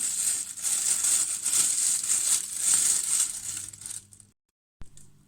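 Close plastic crinkling and rustling as a plastic bag is tied with wire, irregular and busy for several seconds, then it stops abruptly with one short crinkle after a brief silence.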